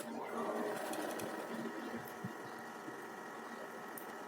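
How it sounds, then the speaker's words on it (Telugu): A sewing machine runs close by, stitching cloth with readymade thread in a quick, steady mechanical whir and rattle. It is fairly quiet and continuous, slowing slightly toward the end, with no talking. "ఫస్ట్ అయితే ఒక చిన్న స్టిచ్ అనేది వేసేయాలి క్లాత్ జరగకుండా ఉండడం కోసం"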